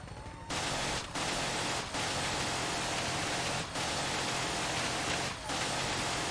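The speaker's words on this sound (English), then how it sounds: "Shoot some ghouls with our completely ineffectual minigun in the meantime." A minigun fires in Fallout 4 at ghouls, a continuous roaring burst of rapid fire broken by a few brief pauses, loud and sustained throughout.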